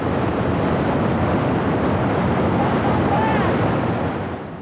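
White water on the Dudh Kosi river in Nepal rushes and roars without a break, a loud, dense wash of turbulent water heard close by with no voices.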